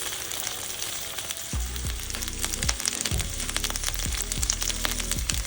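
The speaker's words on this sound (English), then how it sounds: "put your salmon fillets skin side up and cook for 2 minutes." Salmon fillets fry skin side up in an oiled pan, giving a steady, loud crackling sizzle throughout with some low thuds and bumps from the pan. No one speaks.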